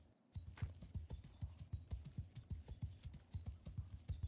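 Cavalry horses gallop in the Mount and Blade 2 Bannerlord video game, their hooves pounding out a loud, rapid, steady rhythm of clip-clop impacts that runs continuously with no talking.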